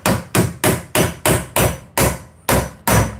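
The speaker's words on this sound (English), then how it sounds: "I'm gonna have to get a chisel" Hammer blows strike a chisel to bust seized parts loose around a boat's fuel tank, nine sharp metallic strikes in a steady rhythm, loud and close with no talking.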